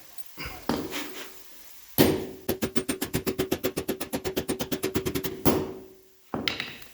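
Rapid framing-hammer blows ring out in a fast, even series of metallic strikes, set off by a few heavier single hits before and after, during installation of a car lift.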